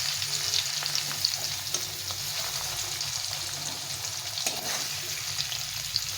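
Medium-cut paneer pieces frying lightly in hot oil, a steady close sizzle with crackling that runs on without pause, no one speaking.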